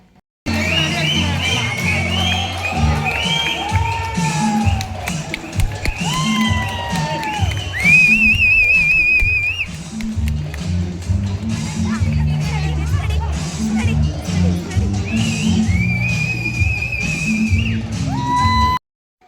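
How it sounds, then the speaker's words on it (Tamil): Students at a school reunion cheer for their teachers after 25 years, a loud crowd of whoops, shouts and whistles with scattered clapping and excited children's voices, sustained throughout and rising in bursts. "எல்லாம் வழக்கமாக ஃபேவரட் ஆக்டருக்காக விசில் அடித்து கை தட்டுறதை பார்த்துருப்பீங்க. ஸ்டாஃபுக்கு பார்த்துருக்கீங்களா?"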